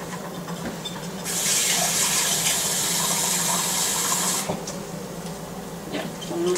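A cup of water is poured into a cooking pot for a coconut, pistachio and dried cherry snack, making a steady rushing pour of about three seconds over quiet kitchen background.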